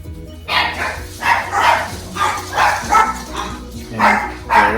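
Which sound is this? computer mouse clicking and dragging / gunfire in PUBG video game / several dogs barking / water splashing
several dogs barking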